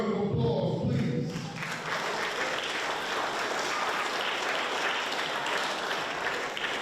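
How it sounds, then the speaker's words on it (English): Audience at a WWN Proving Ground wrestling show applauding, a broad sustained roar of clapping and crowd noise after a brief voice at the start, steady and fairly loud throughout. "So give WWN a round of applause, please."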